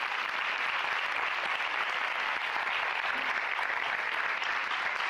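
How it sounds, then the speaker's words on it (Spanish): Steady, even applause from the audience at a mental health panel event, moderately distant and continuous with no talking over it. "Un aplauso para él."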